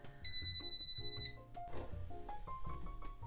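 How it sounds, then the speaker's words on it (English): An air fryer sounds one long, loud electronic beep of about a second when its pizza-reheating cycle finishes, followed by quieter room noise and faint handling sounds. "it will beep and let you know when the cycle is finished"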